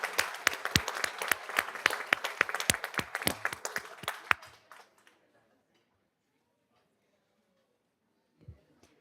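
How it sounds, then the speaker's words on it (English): A crowd at a school board meeting applauds with dense, lively clapping for about four seconds, then it fades out into near silence with a faint thump at the end. "let's give them a round of applause"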